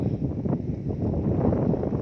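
Cool, dry wind blows steadily outdoors in rural Isan, Thailand, beside a pond where trees have been planted. It makes a continuous low rushing roar that buffets the microphone, with no speech.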